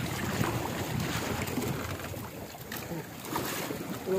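Paddling a small wooden fishing boat (bangka) after a net has been set, with steady wind and water noise filling the scene and a few faint splashes and knocks; some voices are heard in the background.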